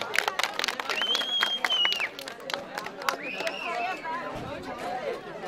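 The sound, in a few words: audience applause at a wedding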